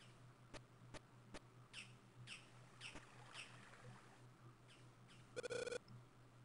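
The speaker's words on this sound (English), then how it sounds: "It's the birds again." Short chirping squawks from birds in the Sword of Mana game forest sanctuary come in a quiet series of brief calls, ending with a rapid buzzing burst.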